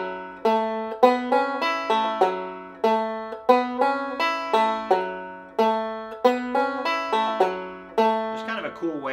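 Bluegrass banjo roll intro picked on a banjo using the open third string, a bright plucked pattern of evenly repeating notes looping continuously, played alone and close.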